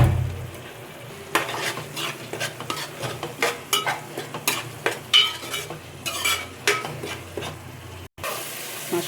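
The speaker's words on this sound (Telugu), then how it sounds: "మసాలా వేగిపోయింది." Masala of ginger-garlic paste frying and being stirred in a pan for a fish curry, with repeated scraping strokes over a steady low sizzle, close and fairly loud, with no one talking.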